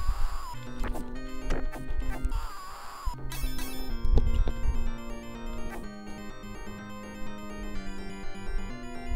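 Smashing in the arcade beat-'em-up Golden Axe, with repeated crunching hits and breaking thuds over looping chiptune-style game music, loud and busy throughout.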